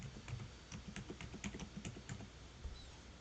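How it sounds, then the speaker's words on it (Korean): Keys clack steadily on a computer keyboard as a password is typed in, the soft, uneven taps close and fairly quiet with no talking over them. "영어와 숫자를 포함하셔서 암호를 입력해 줍니다."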